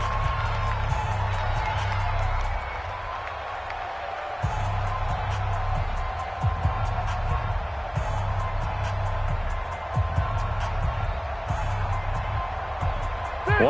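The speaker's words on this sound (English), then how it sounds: "the crowd getting into it as we come up on a big 3rd down" A stadium crowd in a football video game cheers with a steady, loud roar that swells and dips, while a commentator talks over it.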